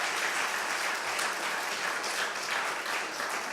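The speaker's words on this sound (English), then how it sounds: "Let's applaud for that as well." Steady, dense audience applause fills a university gift-announcement ceremony, a continuous even wash of many hands clapping with no break and no talk.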